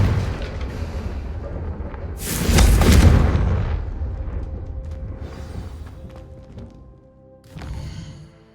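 A Confringo fire spell in Hogwarts Legacy bursts into a heavy booming explosion with a deep rumbling roar that fades slowly, followed by a smaller thump a few seconds later.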